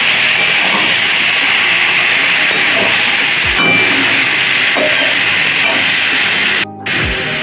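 Bottle gourd tipped into hot spices sets off a loud, continuous hiss and sizzle at close range, with a few small knocks and a brief dip near the end.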